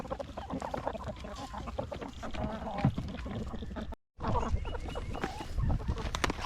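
Farm hens cluck and squawk close by while feeding, in busy overlapping bursts with a brief dropout midway, and a person talks faintly in the background.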